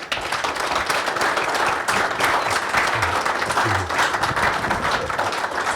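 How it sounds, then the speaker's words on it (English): Audience applause at a leadership series event in Delhi: dense, steady clapping from a sizeable crowd fills the whole stretch at a loud, even level, with faint voices murmuring underneath. "I would also want each one of you to please give a big round of applause for Mr. Bagla and Mr. Bose"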